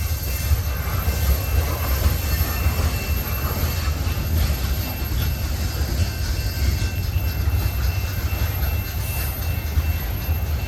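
A train rolls past on the rails in a steady, loud rumble with a constant low roar and faint high squeal, lasting the whole stretch without pause and with no voices.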